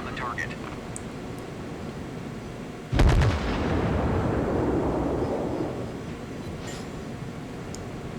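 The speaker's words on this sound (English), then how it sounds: "My first salvo is pretty much on the money, but the spread kind of fucked me up there." A warship's main guns fire a salvo in a naval battle game, one heavy booming blast followed by a long rolling rumble that slowly fades under constant engine and sea noise.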